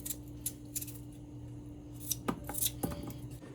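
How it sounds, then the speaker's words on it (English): A knife cutting up chayote (chocho) in a kitchen, with scattered crisp cuts and light knocks against a board, close by over a steady low hum, a couple of firmer cuts near the end. "I'm gonna go ahead and I'm gonna cut up my chayote, otherwise called as chocho"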